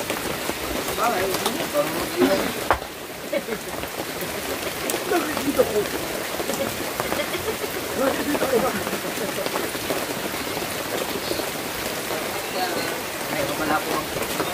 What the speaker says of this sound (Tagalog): Parang malamig na pag-ulan ba?